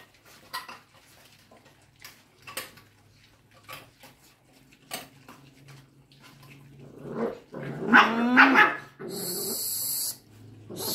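Puppies growling and snarling at each other amid clinking dishes and bowls, scattered knocks early on, then a burst of loud growls and yelps near the end.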